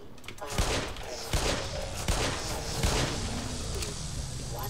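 Gunfire in the first-person shooter Black Mesa, a dense burst of several shots and thuds across a few seconds, loud and close, with game sound filling the background.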